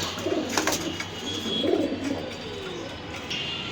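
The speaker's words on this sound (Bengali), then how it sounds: "এটা হয়েছে কিটেল এবং বগুড়া লাইনের কবুতর" A racing pigeon of Kitel and Bogura lineage coos nearby in a few soft, low rolling phrases, moderately quiet, over a faint background hum.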